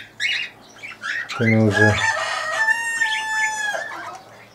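Farm birds kept with quail and parrots calling loudly and close, a drawn-out crowing call with a rich harmonic tone following a few short clucks, while someone speaks briefly at the start.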